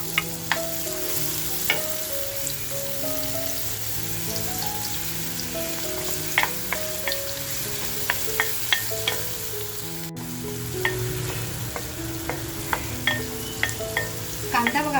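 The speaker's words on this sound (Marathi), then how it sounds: "तेल छान तापल्यानंतर कांदा टाकते आहे" Onions sizzle steadily in hot oil in a home kitchen, a dense continuous frying hiss with sharp utensil clinks and scrapes scattered throughout, close and without talk.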